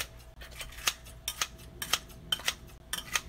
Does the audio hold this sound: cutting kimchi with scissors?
yes